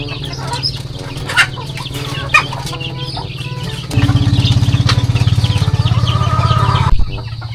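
Chickens clucking and squawking nearby, a whole flock at once, growing louder and busier partway through, at a fishpond.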